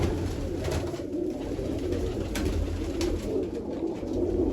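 Pigeons cooing close by in a rooftop loft, a continuous layered murmur of low throaty calls rising and falling.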